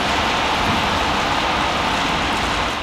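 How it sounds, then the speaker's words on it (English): Rain falls in Dublin, Ireland, as a steady, even hiss of drops that stays constant throughout, with no voices. "It is now raining"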